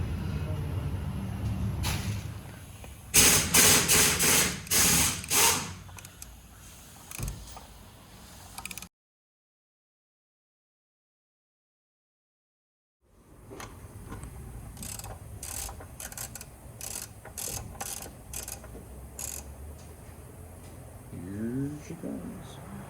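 Ratchet clicks come in bursts while unscrewing the oil filter on a 2015 Lexus RX350. Irregular mechanical creaks and clicks sound at moderate loudness, cut by a few seconds of silence, then resume with more clicking.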